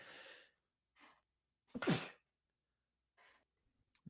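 A single loud sneeze, preceded by a few soft breaths and followed by quiet sniffs and small sounds.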